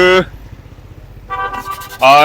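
Car and motorcycle horns honking in a traffic jam in a busy Karachi market area, short sharp toots at the start and end with a quieter stretch of street noise between, close and loud.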